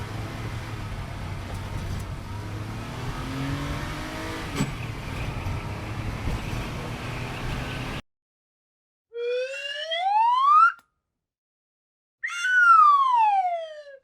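A toy car gives a steady rumbling engine drone for several seconds, close and fairly loud. Two separate rising and falling siren wails follow with silent gaps between them.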